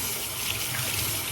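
Warm water running from a tap into a sink for rinsing off a face mask, a steady soft hiss and splash, fairly quiet and continuous with no talking.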